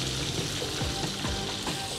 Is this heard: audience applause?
no